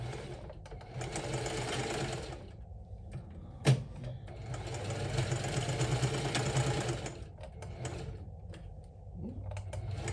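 Sewing machine stitching a quilted crossbody handbag, a loud continuous mechanical whir of the needle running for about ten seconds, briefly slowing and broken by one sharp click partway through.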